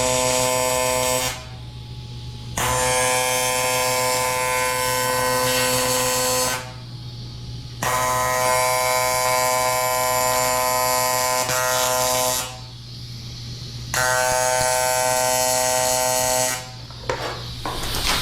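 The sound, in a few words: arc welding aluminum with electrode, foot pedal and filler rod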